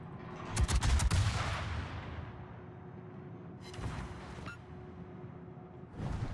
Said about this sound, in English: We're in range so much that my 4 inches are now firing.